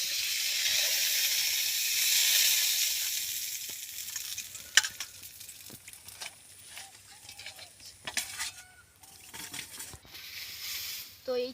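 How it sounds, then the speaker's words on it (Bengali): Rupchanda fish crackles and hisses in hot oil, loud and bright for the first few seconds, then quieter sizzling with scattered pops and clinks of a utensil against the pan. "এই মাছটাও আমরা ভালো করে ভেজে নিয়েছি"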